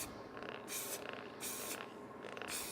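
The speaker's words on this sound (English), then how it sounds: "we get the spray olive oil, and we give it a good spray so it doesn't stick" Olive oil cooking spray hissing into a mixing bowl for bread dough, four short bursts at a steady rhythm, faint and close, with quiet room background.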